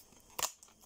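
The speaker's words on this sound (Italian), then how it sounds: "Dovrebbe essere forbici." Scissors cut open store-bought packaging in a single brief, sharp snip near the mic, loud against a quiet room.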